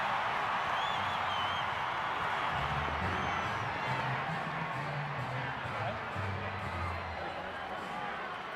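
Stadium crowd at a 2007 NRL rugby league qualifying final between North Queensland Cowboys and Canterbury Bulldogs roars in a steady, dense wash of cheering, with a commentator's voice running over it throughout.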